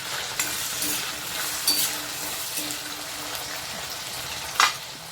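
Thinly sliced potatoes frying in oil with salt for a cabbage and potato dish, a steady close sizzle with occasional scrapes and clinks of a spoon stirring in the pan.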